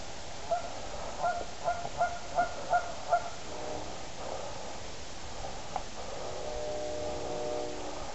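Geese or ducks honk near water: a series of about seven evenly spaced, nasal honks from a moderate distance, followed by quieter outdoor background noise.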